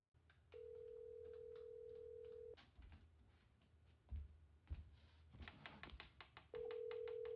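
A telephone ringing in a watched show, long steady electronic ring tones with pauses between them and soft knocks and clatter in the gaps.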